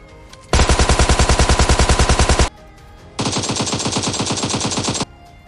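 A DP-28 light machine gun in PUBG Mobile Lite fires two loud, close automatic bursts of rapid, evenly spaced shots, separated by a short pause.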